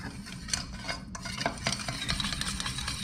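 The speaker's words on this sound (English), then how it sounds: "let's get in with our chopsticks and just mix it up" Chopsticks stir ramen dough ingredients, flour with salt, around a bowl, making a continuous run of light scraping and clicking close by.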